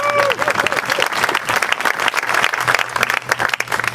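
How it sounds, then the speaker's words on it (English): Audience applause at a golf Q&A event at Haggin Oaks honoring golfer Miguel Angel Jimenez, a dense, steady wash of many hands clapping throughout, loud and close, with a faint voice briefly audible at the start. "Please, a warm round of applause for Miguel Angel Jimenez."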